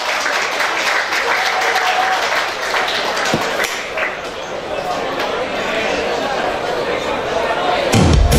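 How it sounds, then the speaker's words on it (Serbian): An audience at a live band performance on a stage breaks into loud, sustained applause, a dense wash of clapping with scattered cheers that carries on steadily to the end. "Ovo je zaista zavrijedilo još jedan veliki aplauz."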